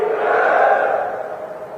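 A large crowd at a political rally roars a single loud, echoing cheer in unison, swelling quickly and then fading over under two seconds.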